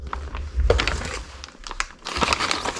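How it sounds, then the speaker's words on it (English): Plastic parts bag from a CAT fuel filter adapter kit for an LB7 Duramax being opened and rummaged, close crinkling and rustling in bursts with a short pause midway. "We got a bag of goodies here."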